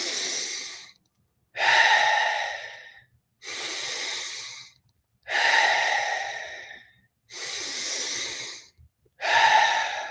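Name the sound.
deep Wim Hof method breathing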